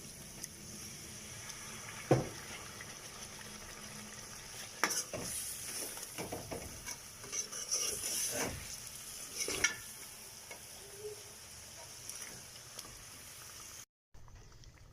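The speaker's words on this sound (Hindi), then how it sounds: "अब इसको इस तरह थोड़ा सा अच्छी तरह भूनना।" Masala frying and being stirred for restaurant-style chicken karahi, a steady sizzle with repeated scraping and clanking strokes of a spoon in the pan, heard alone, before a brief cut at the end.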